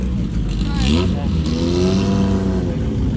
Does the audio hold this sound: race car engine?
yes